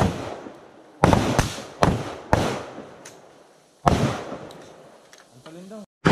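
Gunfire echoes across a special operations live-fire range during a military exercise, with several sharp, loud reports in quick succession and long echoing tails, followed by quieter pops, a brief voice and radio chatter.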